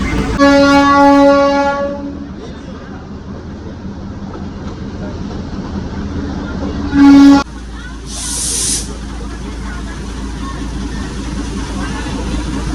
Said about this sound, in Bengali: হেরিটেজ টয় ট্রেন রাইড অবশ্যই একবার করা উচিত